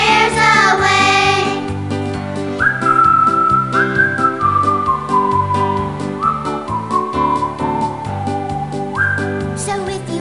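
A whistled melody carries the tune of a cheerful children's song from the educational game Reader Rabbit Kindergarten, bright and sustained over full instrumental backing with a steady bouncy rhythm.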